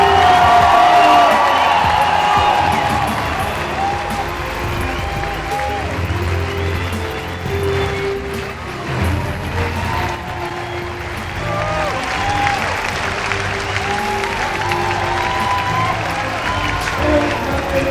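A hometown crowd cheers and applauds a women's race win, a loud sustained roar with whoops rising and falling, while a commentator's voice talks over it.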